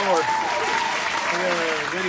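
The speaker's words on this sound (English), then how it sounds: "applause on that one" Applause over a drone-flying demonstration, a continuous wash of clapping heard alongside talking and a whistling tone that rises and falls.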